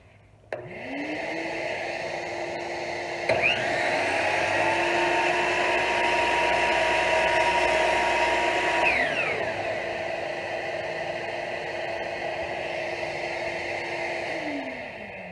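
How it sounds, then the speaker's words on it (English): A shop vac collecting dust from a miter saw whines up and runs steadily, with a saw-like rise and fall in pitch in the middle as the motor roars, then keeps humming throughout. "this hose over here goes off to a shop vac"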